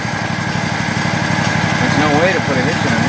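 A small tractor engine runs close by with a loud, steady, buzzing drone that holds evenly throughout without pause.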